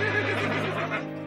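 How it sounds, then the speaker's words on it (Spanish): A horse standing by its owner's coffin at a funeral neighs loudly and close, a single sustained whinny with a wavering pitch that fills the moment alone. "Luego el caballo levantó la cabeza y relinchó ruidosamente."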